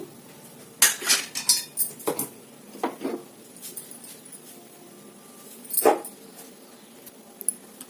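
Semiya payasam, a sweet vermicelli pudding, is ladled from a pot into a bowl, giving clinks of metal utensils against cookware in a few scattered bursts, close and moderately loud, with quiet gaps between.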